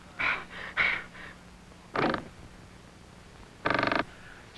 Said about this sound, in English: Now open the door.